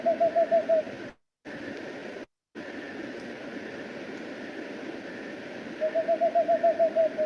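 A whiskered screech owl gives a quick run of evenly spaced hoots at the start and again near the end, a Morse-code-like series over steady hiss, with two brief dropouts between calls.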